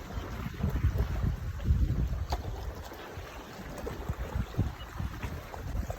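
Steady gusting wind at a lakeside in Cherthala, Alappuzha, buffeting the microphone with low rumbling surges and a constant airy hiss, no voices.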